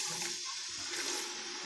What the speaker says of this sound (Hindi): अब इसमें थोड़ा सा पानी और डालेंगे